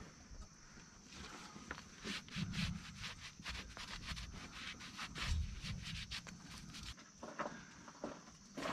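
A rag rubs and wipes out the driveshaft bolt holes of a 2001 Ford F250 after brake cleaner, giving a steady, close scrubbing and scraping with quick rhythmic strokes and no speech.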